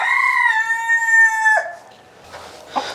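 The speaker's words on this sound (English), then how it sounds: "check on Mama Hen in here, see how many eggs she's sitting on" A broody hen sitting on eggs in a nesting box lets out a loud, drawn-out harmonic squawk lasting over a second, followed by quieter soft clucks and rustling.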